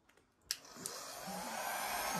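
A 1,000-watt mini travel hair dryer set on cool starts after a couple of light clicks and settles into a steady, close, airy whir.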